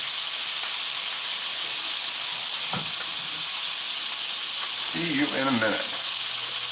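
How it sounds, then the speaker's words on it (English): Steak sears in a hot cast iron pan with a loud, continuous hiss and sizzle that never lets up, while someone speaks briefly near the end. "Get a nice sear on those things."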